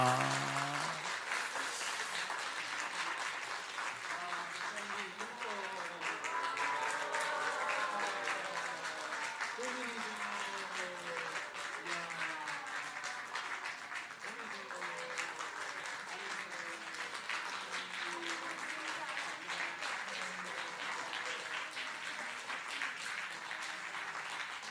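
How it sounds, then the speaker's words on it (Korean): A church congregation of elders applauds warmly for about twenty-five seconds, steady dense clapping with a murmur of voices and some speech mixed in underneath throughout. "어르신들은 박수로 뜨겁게 축복해"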